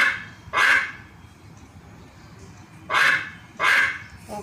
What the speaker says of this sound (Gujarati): આ હતો બતકનો અવાજ